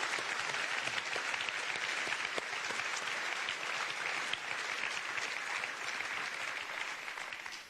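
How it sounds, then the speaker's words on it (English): A large audience at an awards ceremony claps in a warm, steady round of applause, dense and even throughout before tapering slightly at the end, with no voices over it. "we would offer a warm round of applause"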